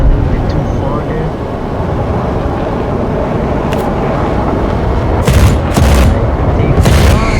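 Gunfire and an explosion while flying a MiG-23BN jet in a combat video game, heard as a loud continuous engine roar with several sharp bursts of fire and impacts near the end.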